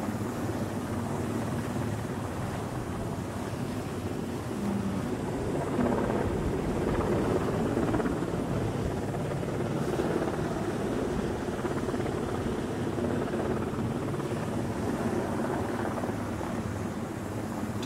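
A helicopter hovers while lowering a power pole into a narrow gap between power lines on a mountainside in Puerto Rico; its rotor thrums as a continuous loud drone, roughened by wind buffeting on the microphone.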